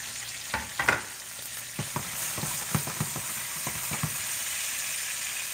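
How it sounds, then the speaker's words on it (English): Garlic and ginger frying in a pan for Jamaican salmon rundown, a steady close sizzle broken by several sharp stirring scrapes and clicks, with no voices. "And then I'm gonna also dump in my garlic"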